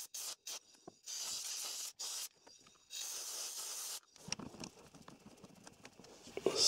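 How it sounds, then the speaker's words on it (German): Compressed air blasting loosened dirt and crust off an Opel Tigra B F17 gearbox, several separate short hissing bursts of air followed by scraping, rattling debris, fairly quiet and close. "jetzt gehe ich mit Druckluft etwas nach, um den Dreck, die Verkrustung, die sich jetzt gelöst hat, zu entfernen und blase mit Druckluft von der Seite das Ganze ab"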